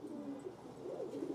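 A female pigeon cooing, soft low throaty coos rolling in two or three short swells, close but faint, with no other sound around.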